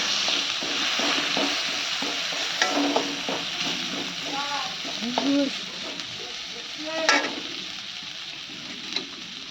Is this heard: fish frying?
yes